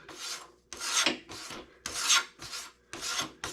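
A blade is stropped on a leather strop strap fixed by a bolt to a small workbench, giving five rhythmic raspy strokes with brief pauses between them, close and fairly loud with no talk.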